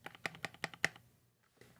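Typing on a modded mechanical keyboard, a quick run of crisp, muted key presses up close, followed by a brief pause and one or two softer taps.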